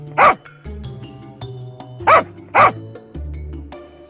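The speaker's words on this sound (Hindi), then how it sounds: "उसके गोल गोल घूमकर डम्बू भौंक रहा था।" A dog barks three times, close and loud, in sharp single woofs with quiet gaps between them.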